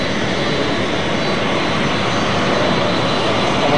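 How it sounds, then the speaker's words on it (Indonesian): An airplane from Saudi Arabia arriving at Halim Perdana Kusuma airport in Jakarta: a loud, steady jet engine roar, continuous and close throughout. "Satu pesawat dari Arab Saudi sudah tiba di Bandara Halim Perdana Kusuma."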